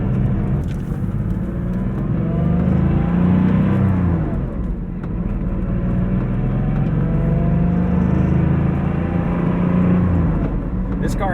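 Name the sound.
1988 Porsche 911 Carrera engine driving around town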